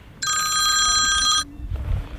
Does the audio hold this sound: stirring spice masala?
no